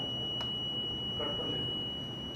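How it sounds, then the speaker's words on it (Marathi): An electronic voting machine gives a long, steady beep as it is cleared, with the single tone holding unbroken and fairly loud from start to finish over a faint background. "लॉन्ग बीप येत आहे"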